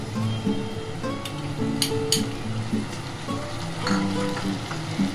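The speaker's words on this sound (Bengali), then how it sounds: "ভালো করে এটাকে লাল লাল করে ভাজতে হবে। পেঁয়াজটা আমার লাল লাল করে ভাজা হয়ে গেছে।" Onions fry in hot oil in a pan for Bengali mutton kosha, with a steady close sizzle and a few sharp clinks from a utensil against the pan.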